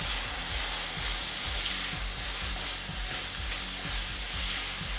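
A garlic clove and peppers frying in a pan hiss softly and steadily while a utensil stirs in a regular rhythm of low scrapes and taps.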